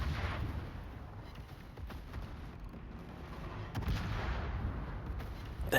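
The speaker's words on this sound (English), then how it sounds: "I should still be able to get some gunshots on him." Warship guns fire in a World of Warships naval battle, with a cruiser engaging the German battleship Mecklenburg, giving heavy, rumbling booms at irregular intervals over a constant low roar, fairly faint overall.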